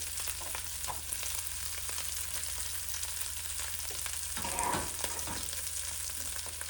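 Mashed potatoes frying with cumin seeds in a kadai, a steady close crackling sizzle throughout with a brief louder stir or drop of food near the end.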